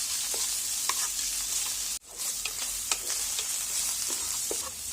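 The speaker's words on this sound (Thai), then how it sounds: "ใส่ลงไปเลย ผัดให้เขาหอมนะคะ" Shiitake mushrooms stir-fried in a wok for a kale dish, with a steady bright sizzle and scattered scraping stir strokes, broken by a brief pause near the middle, no talking.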